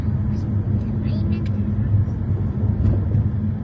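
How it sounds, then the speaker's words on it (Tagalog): Road traffic produces a steady, fairly loud low rumble of passing cars throughout, with faint voice-like sounds mixed into the continuous wash. "it's traffic"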